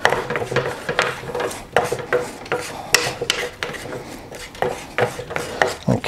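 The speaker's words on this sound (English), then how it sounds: "And still on the hot pan, you keep stirring." Three eggs are stirred in a hot pan, a steady run of scraping, rubbing strokes of the utensil against the pan, close and fairly loud.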